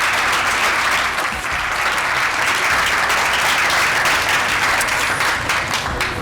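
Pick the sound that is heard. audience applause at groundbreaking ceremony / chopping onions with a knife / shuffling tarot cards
audience applause at groundbreaking ceremony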